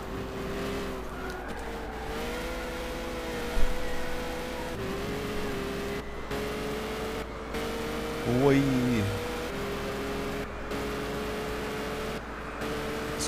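A Peugeot 908 race car engine in Gran Turismo 6 drones steadily throughout, pitch rising and falling with gear changes and a brief tire squeal, while someone talks over it.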